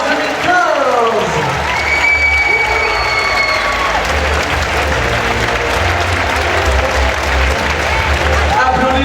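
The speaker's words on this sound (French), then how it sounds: "Applaudissements pour la première dauphine Miss France 2015, Manon Burel." Pageant audience at Parc Saint Paul applauds the first runner-up of Miss France 2015, a dense, sustained wash of clapping with some cheers, while an announcer's amplified voice carries over it.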